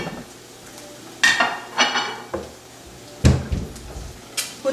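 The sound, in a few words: dish being grabbed and handled in kitchen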